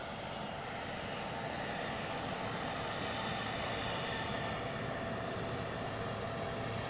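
An airliner taxiing at Zurich Airport, a continuous broad engine rumble and whine heard from a distance, steady and unbroken, with no voices.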